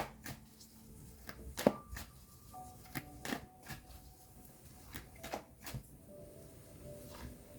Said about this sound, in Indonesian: Aku coba tarik energinya dengan kartu tarot.